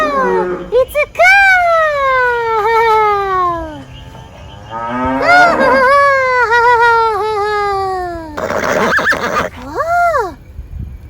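Cows mooing on a farm in a series of long, drawn-out calls that rise and fall, loud and close, with brief gaps and a few shorter animal cries between them.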